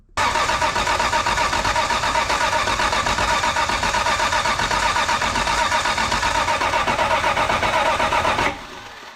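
A Toyota Supra MK3 with a 7MGTE engine cranks continuously and loudly up close with a steady rhythmic starter churn, then cuts off near the end.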